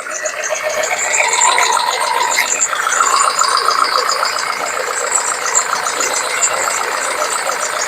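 A BMW E91 engine with a cracked cam cover, misfiring at idle with a steady, uneven rumble and faint knocking, close and fairly loud, with a little background voice.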